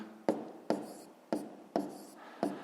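A pen writes numbers for a fifth-grade math exercise in five short, evenly spaced scratching strokes, close and fairly quiet, with no talking.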